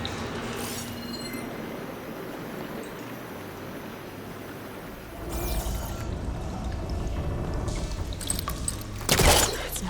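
Water rushing and pouring through pipes in Horizon Forbidden West, a steady flowing wash that swells louder midway, with a brief sharp burst near the end.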